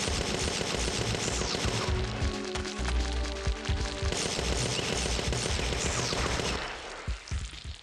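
Rapid gunfire from the video game Parasite Eve 2 crackles in dense bursts for most of the stretch, loud and close, then thins out and fades near the end with no talk.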